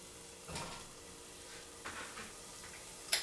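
Pork belly sizzles quietly in seasoned mushroom juice, a faint steady frying hiss broken by a few soft stirring scrapes and a brief sharp clink near the end.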